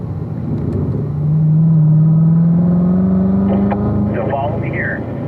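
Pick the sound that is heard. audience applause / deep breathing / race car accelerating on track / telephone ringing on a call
race car accelerating on track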